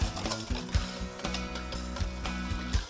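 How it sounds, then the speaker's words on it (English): A whisk beats sugar into a mixture in a bowl for a fig clafoutis, producing quick, rhythmic rattling taps against the bowl at close range, with no talking. "So we'll whisk this together"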